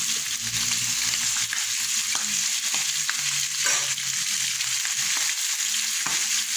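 Cut string beans sautéing in a pan for kare-kare, a steady broadband sizzle with scattered stirring scrapes and clicks, close and continuous with no voices.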